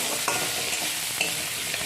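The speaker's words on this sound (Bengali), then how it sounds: "এদিকে আমার এঁচড়টাও ভাজা হয়ে গেল" Jackfruit frying in hot oil, a close, steady sizzle with faint scraping clinks of stirring.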